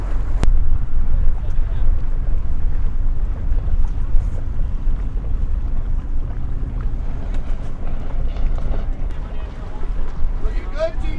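Steady wind rushes and buffets over water aboard a sailboat racing in a regatta, a low continuous roar with gusty surges and faint hull and rigging noises throughout, with people talking briefly.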